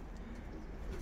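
A pigeon coos softly, low and faint, a brief throaty murmur in a quiet loft setting.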